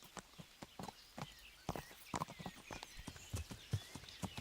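Horse hooves clip-clop in the medieval game Kingdom Come: Deliverance, an uneven series of hollow close thuds as the horse picks its way downhill.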